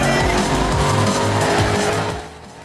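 A car power-sliding in Need for Speed The Run on the Wii, its engine roaring loud and close while the tires squeal in a long, wavering skid that fades out near the end.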